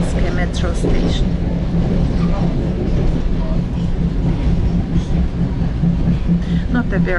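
An above-ground Moscow metro train near Izmailskaya station rumbles loudly and continuously with rolling rail noise, heard from inside the carriage, while a voice speaks over it.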